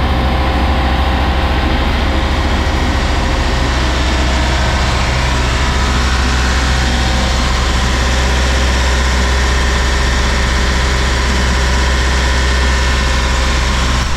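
A loud starboard engine on a Balance 526 catamaran drones steadily at close range, a deep constant rumble and vibration with no pauses.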